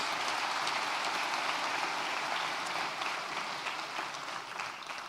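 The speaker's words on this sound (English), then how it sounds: "Round of applause." Soft, steady applause from a graduation ceremony audience honouring an absent graduate, heard at a distance as a continuous rain-like patter that tapers slightly near the end.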